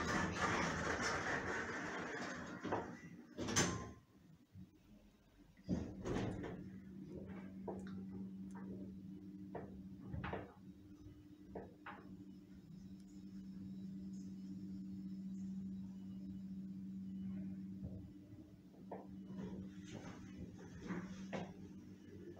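A 2001 Oakland lift at Next, 40-46 Donegall Place, Belfast: after some faint clunks and knocks the doors close with a thud, then a steady low motor hum runs as the car descends, with scattered soft ticks and clicks.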